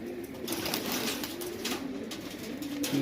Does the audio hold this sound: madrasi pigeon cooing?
yes